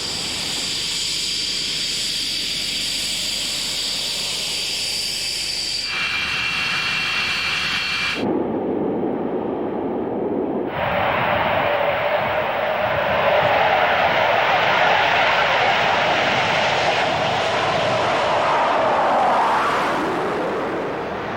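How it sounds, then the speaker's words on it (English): Jet fighter engines spool up during a tow out of a shelter, a rising roar and steady high-pitched whine, loud and close, building continuously after a brief quieter gap. "the aeroplane is pulled out of the shelter and engines started during the tow"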